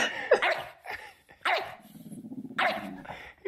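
A dog growls low and barks in short bursts, close by, with a rumbling growl between the barks.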